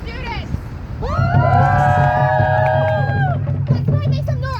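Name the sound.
crowd cheering for the students at a rally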